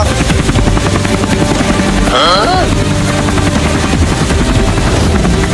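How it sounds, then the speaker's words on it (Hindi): A loud, continuous helicopter rotor thrum with rapid chopping pulses, steady throughout and close. "अरे वहां तो एक हेलीकॉप्टर भी उड़ रहा है।"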